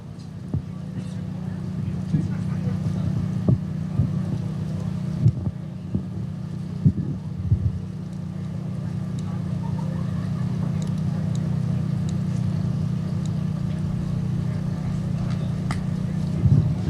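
Outboard motors of bass fishing boats idle and rumble at a steady low drone during a lakeside tournament weigh-in at Smith Lake, with wind noise and scattered knocks and clatter throughout.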